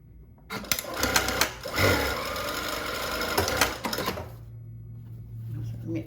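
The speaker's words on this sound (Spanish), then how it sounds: "vamos a coser lo que sería un free sewing o una puntada libre con remate doble al final" A JUKI DDL-8000A industrial sewing machine runs free stitching through fabric with double and single backtack locks, a fast dense mechanical whir in several bursts that stops and starts, with a low motor hum at the end. Speech is heard alongside it.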